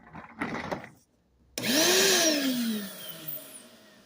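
A 5-gallon Shop-Vac with a motor that sounds off switches on abruptly after a few faint knocks and runs loud and close, with a whine rising then sliding down before the roar eases slightly.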